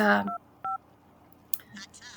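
A few telephone keypad tones beep in short separate bursts, followed by brief faint speech fragments.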